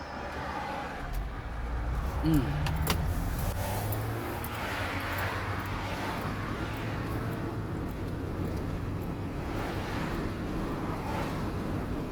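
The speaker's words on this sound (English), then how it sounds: "It's just a steady stream of cars today." Steady stream of cars passing outside a delivery driver's vehicle, a faint continuous road rumble with soft swelling passes, low and distant, without talk.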